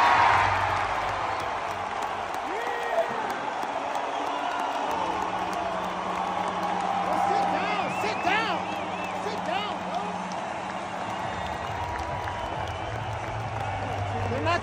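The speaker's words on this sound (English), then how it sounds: "everybody cheering like it's the finals" A large indoor crowd at a basketball game roars and cheers steadily, with whoops and shouts rising over the din and voices talking nearby.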